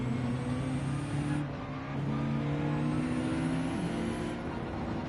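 A Subaru WRX in a racing video game holds a steady, droning engine hum with a rising whine, loud and continuous with no talk over it.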